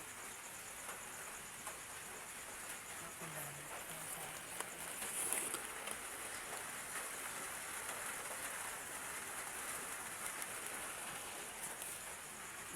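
Steady rain falls at 6 a.m. outdoors, a continuous broadband hiss with patter and drips, moderately loud and even throughout, with no talking.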